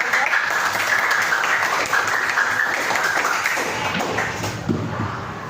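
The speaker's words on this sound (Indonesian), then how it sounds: "Oke, tepuk tangan." A classroom of students applauding together, a dense burst of hand clapping that holds steady and then thins out toward the end, fairly close.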